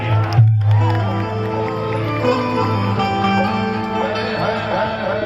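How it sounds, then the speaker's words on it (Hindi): A large crowd at an outdoor stage show cheers and shouts loudly, with a dense wash of voices and whistles over steady background music and hum. "चारों तरफ से जोरदार ताली हो जाए भैया"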